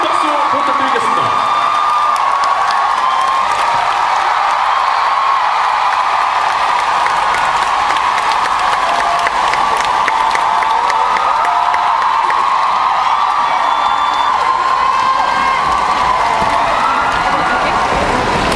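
A large crowd at a figure skating ice show cheers and applauds continuously, a dense, steady wash of clapping and whoops that stays loud throughout with no pauses.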